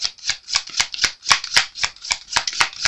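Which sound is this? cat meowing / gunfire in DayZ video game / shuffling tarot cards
shuffling tarot cards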